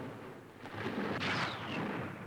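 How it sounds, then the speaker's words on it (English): A deep, rumbling explosion on a warship's afterdeck, from a bomber's hit, swells out of a noisy, chaotic background of gunfire and lingers briefly, in 1942 newsreel audio. "Suddenly, an explosion on the afterdeck."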